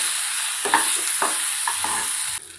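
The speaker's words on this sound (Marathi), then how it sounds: "त्यामध्ये आपण अर्धा चम्मच हळद, मीठ, छान मिक्स करून घेऊया आपण याला" Turmeric and salt are stirred into a soya chunk fried rice mixture in a hot pan, giving a few scraping strokes over a steady sizzling hiss that cuts off near the end.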